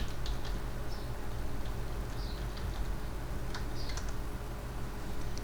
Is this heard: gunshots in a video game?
no